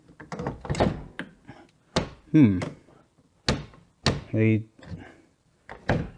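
A Porsche car door, its window fouling the frame, is shut with several solid thunks amid nearby talk.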